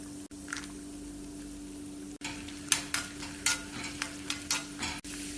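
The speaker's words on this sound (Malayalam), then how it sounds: "അണ്ടിപ്പരിപ്പിന്റെ കളർ മാറി തുടങ്ങുമ്പോൾ ഇതിലേക്ക് കുറച്ച് ഉണക്കമുന്തിരിയും കൂടെ ചേർത്ത് വറുത്തെടുക്കാം" Cashews and raisins frying in hot ghee for a mixed fruit payasam, giving a soft steady sizzle with stirring clatters and scrapes that come in short bursts through the second half. No one speaks.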